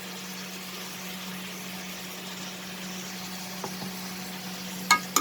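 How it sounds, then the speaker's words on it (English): Tomatoes and ginger garlic paste sautéing in a pan over a medium-high flame, giving a steady, even sizzle throughout with a low constant hum and a few brief stirring clinks near the end. "saute everything together"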